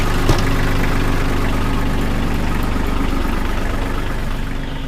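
A farm tractor engine running steadily with its live PTO spinning, a loud, continuous mechanical drone with a low throb, close up and with no speech.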